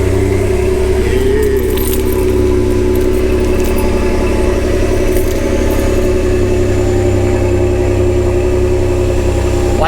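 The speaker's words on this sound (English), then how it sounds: "I'm gonna go ahead and give y'all a cold start, and this is gonna be a true cold start" A Ford F-150 with the 3.5 EcoBoost engine and a deleted resonator idles loudly and steadily right after a true cold start, a close, continuous rumble with no talk.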